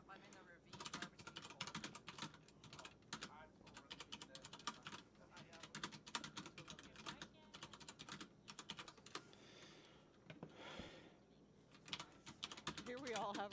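Someone types rapidly on a computer keyboard, and the dense, irregular key clicks run almost continuously up close. A few short pauses break the stream, and faint voices sit in the background.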